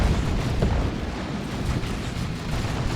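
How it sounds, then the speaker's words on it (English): Grenade barrage in the Warhammer 40k game Dawn of War 2: a dense, continuous roll of heavy booming explosions and rumbling blasts, loud and close throughout, with no clear gaps between bursts. "Decent Grenade Barrage."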